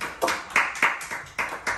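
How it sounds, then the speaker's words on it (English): Sparse, polite golf clap from a small in-game gallery in Wii Golf, about six or seven separate claps in a loose, unhurried rhythm, fairly close and clear with no voices over them. "Oh, we even got the golf clap over here"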